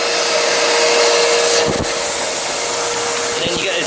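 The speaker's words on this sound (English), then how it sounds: "About a minute to really draw it down and get a good vacuum in there." A vacuum sealer draws air out of a food storage bag with a loud, steady close-up whirring rush, broken near the end by a couple of brief rustles of the bag.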